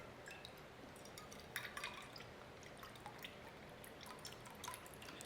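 Fish sauce is poured into a cooking pot for spring roll dipping sauce, producing quiet dripping and trickling liquid sounds with small splashes, faint and close, with no talking.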